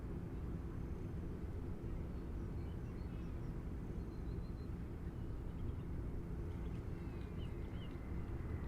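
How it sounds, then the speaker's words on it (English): A Southwest Boeing 737 MAX 8 on the ground at Nashville International Airport, a faint, distant, steady low jet rumble that holds evenly throughout without any distinct events. "Next aircraft taxiing over for departure, Southwest 3113, a MAX 8 headed to Oklahoma City."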